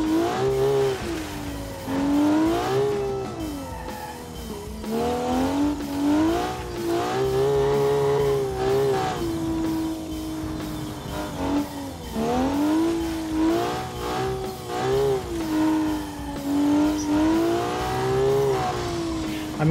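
A track car built in Automation, driven in BeamNG without stability or traction control, revs hard through repeated rising and falling engine sweeps with gear changes, loud and continuous throughout.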